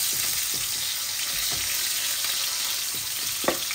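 Pieces of rohu fish frying in hot oil in a pan, a steady dense sizzle with occasional soft spatula scrapes and one sharper tap near the end, close and continuous with no talking.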